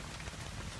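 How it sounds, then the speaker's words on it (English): Rain falls steadily on a wet campsite after a full day of rain, a brief, close, even patter of drops with no voices. "So yeah, it's been raining all day."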